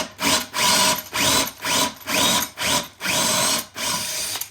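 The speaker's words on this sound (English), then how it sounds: "when you have to drill various sizes of holes to do a lag bolt" A power drill whirs in about seven short bursts, drilling holes for lag bolts while installing a newel post, each revving up and stopping, loud and close with brief pauses between.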